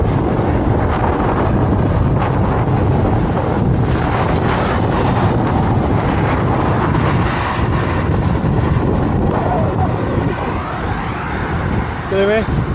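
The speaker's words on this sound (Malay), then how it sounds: "Angin kuat." Strong wind buffets the microphone outdoors in a loud, unbroken roar with a low rumble underneath that holds for the whole stretch, easing slightly near the end.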